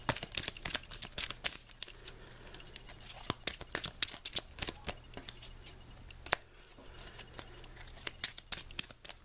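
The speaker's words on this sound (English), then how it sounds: "I have to shuffle" A deck of Marvel Champions game cards is riffled and shuffled close up, with sharp crisp snaps and fluttering bursts arriving in irregular clusters over a faint low hum.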